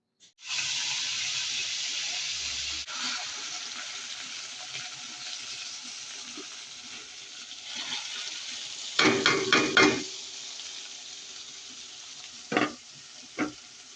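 Steady loud sizzling of food frying in a pan in an outdoor kitchen, with clattering bursts of stirring and a couple of sharp utensil knocks near the end.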